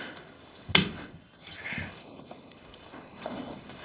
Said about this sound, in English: Listen, there's footsteps coming.